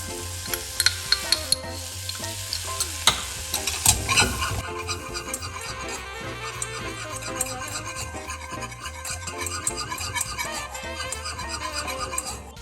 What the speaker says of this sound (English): Melt 25 grams of butter in a saucepan. We add corn flour.